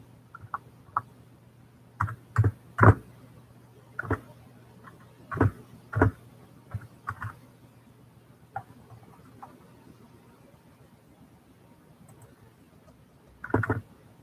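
Keys on a computer keyboard are pressed in short, scattered bursts of clicks separated by pauses, close by and fairly quiet against a faint low hum.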